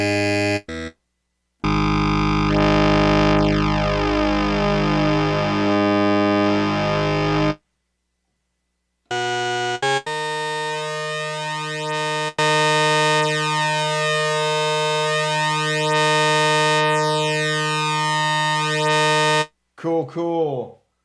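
PWM Mantis synthesizer playing an OSCar wavetable with a harpsichord-like shape, run through effects: loud sustained buzzy tones with sweeping, swirling harmonics, separated by short silences.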